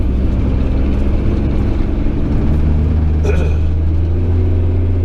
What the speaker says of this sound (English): Mr. Peter Hall, in his little lorry